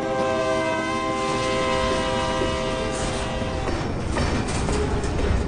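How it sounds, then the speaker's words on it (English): A huge train roars past in the video game Vivisector, its loud horn holding steady tones over the heavy rumble and rhythmic clatter of wheels on rails, filling the whole stretch. "That is a big motherfucking train!"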